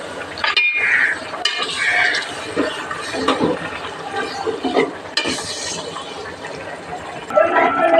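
Mutton curry being stirred with salt, chilli and spices in a cooking pot, with scraping and clinking of a spoon against metal and a faint sizzle, close and continuous.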